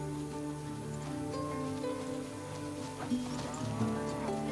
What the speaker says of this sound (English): These pantaneros herd cattle through the wetland all year round.